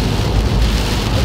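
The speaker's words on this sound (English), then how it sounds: "attentive rain sensing wipers are speeding up without me having to do anything" Heavy rain drums steadily on the windscreen of an Isuzu D-Max pickup fitted with rain-sensing wipers, a dense, close, continuous roar with no speech.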